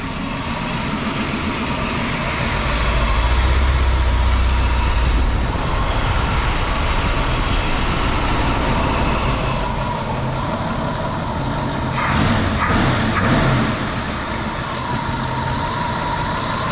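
A Ford Mustang 289 V8 idles steadily as its idle speed is adjusted, a loud continuous rumble with a slight dip in tone partway through and a brief mechanical rattle near the end, without talking.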